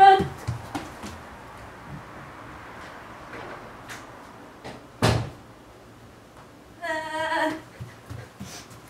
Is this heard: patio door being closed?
yes